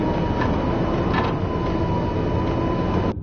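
A subway train in the Max Payne video game gives a loud, constant rumble with a steady whine running through it and faint rhythmic clatter, then cuts off abruptly near the end.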